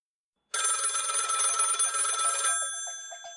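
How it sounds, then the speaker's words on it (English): A telephone bell rings loudly after a moment of silence, a continuous bright electronic trill lasting about two seconds and then fading into a brief decaying tail. "Phone rings."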